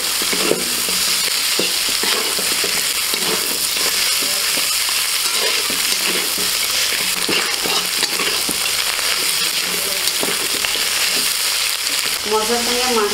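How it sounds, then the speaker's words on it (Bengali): Fish heads frying with half a spoon of chilli powder and turmeric in a pan, a steady dense sizzle with stirring scrapes throughout, close and continuous with no talk. "মশলার সঙ্গে মাছের মাথাগুলো ভালো করে ভেজে নিয়েছি"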